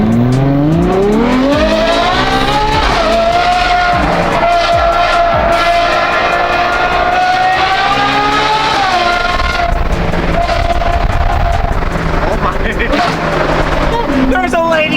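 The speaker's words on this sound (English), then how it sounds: "let's hear this 812" A Ferrari 812's V12 revs hard and loud up close, climbing to a sustained high scream, dropping, then flaring again in sharp repeated blips, with voices talking under it.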